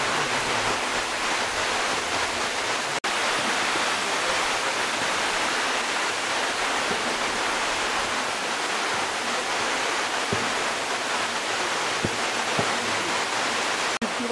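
A steady, full roar of falling water from Jujeon Falls, a twelve-tiered waterfall in a mountain valley, fills the whole clip, constant and close, with no voices over it.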